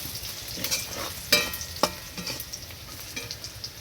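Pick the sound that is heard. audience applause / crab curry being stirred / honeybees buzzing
crab curry being stirred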